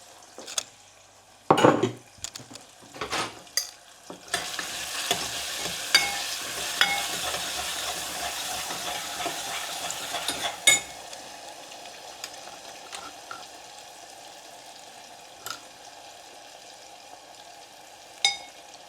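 Spices stirred into vada pav shaak frying in a pan with curry leaves and salt: a spoon scrapes and clinks against the metal under a steady sizzle, with sharp knocks at the start and scattered taps later, no voices.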